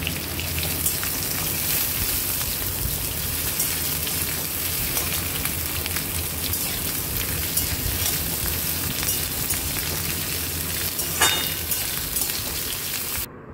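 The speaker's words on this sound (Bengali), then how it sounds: "এবারে কেটে রাখা সবজিটা ঢেলে দেব। সবজিটা দিয়ে হালকা একটু ভেজে নেব।" Cut vegetables for sukto lightly frying in a pan, a dense crackling sizzle like rain on a surface, steady and close, with a few stirring clicks and no talk.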